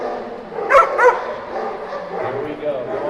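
A dog barks twice in quick succession at a dock diving practice pool during the AKC National Championship, close and sharp, followed by fainter yips and whines amid crowd murmur.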